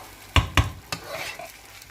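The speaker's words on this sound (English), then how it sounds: "So you just fry and fry" Rice fried with prawns in a pan, with three sharp scraping knocks of a utensil against the pan, followed by a soft sizzle and quiet stirring noises.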